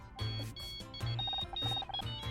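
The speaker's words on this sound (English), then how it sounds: "1 second, I think that's my phone." A phone ringing in the video game Murder by Numbers: a repeating electronic ring in short bursts, several pulses in quick succession, fairly close and clear with no talk.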